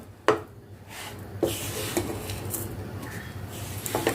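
Sesame, jaggery and peanut mixture scraped and stirred in a pan over a low flame, soft knocks and scrapes of a spoon against the pan with a few sharper taps, close and fairly quiet, no talk.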